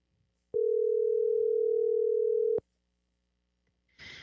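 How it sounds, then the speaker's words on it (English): A telephone dial tone sounds while a call is placed: one steady, loud, unbroken tone runs for about two seconds, then stops abruptly, with a brief faint noise near the end and no speech. "So let me get who I know as Mama Jones on the phone."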